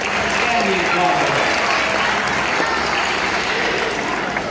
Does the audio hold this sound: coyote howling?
no